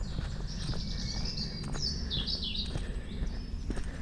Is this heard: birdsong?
yes